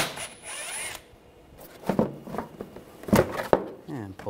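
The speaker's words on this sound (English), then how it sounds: "use a 10mm socket, take this nut off" A ratchet with a 10mm socket works a nut off a 2009-2013 BMW 328i, giving a few short close clicking bursts between quiet gaps, with a voice talking over parts of it.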